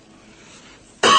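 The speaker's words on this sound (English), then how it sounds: "Sorry if I cough every now and then because I actually have the flu" A man with the flu lets out a single sharp, loud cough at the very end, after a near-silent stretch.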